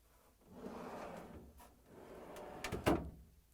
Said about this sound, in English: And now I'm going to pull out the drawer.